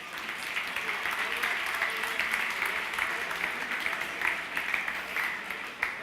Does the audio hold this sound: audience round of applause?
yes